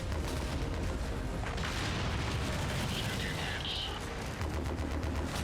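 In Mechwarrior 5 a destroyed mech blows up amid a dense, roaring battle, with heavy booms and rapid gunfire blending into a continuous loud wall of noise while a voice talks faintly underneath.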